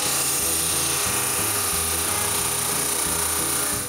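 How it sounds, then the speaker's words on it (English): A stepper motor returning to its home position on a drum sander feed controller: a steady mechanical whine with a low, pulsing stepped hum, running continuously and fairly loud, close by. "the stepper motor returns to its home position"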